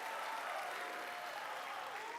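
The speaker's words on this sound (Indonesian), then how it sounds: "Kita berikan tepuk tangan." Audience applause at a 2014 presidential debate, a continuous soft wash of many hands clapping at a distance in a large hall, even and sustained throughout.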